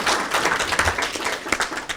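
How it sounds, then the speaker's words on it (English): A breakfast audience of realtors claps in a short, steady round of applause, dense overlapping hand claps at moderate loudness filling the room without pause. "Give yourselves a round of applause for coming out."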